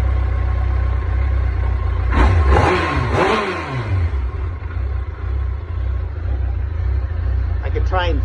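A 2007 Yamaha FJR1300 motorcycle engine runs rough and hard to keep going when cold, a steady uneven mid-pitched drone with a burst of revving near the middle; indistinct voices sound faintly in the background.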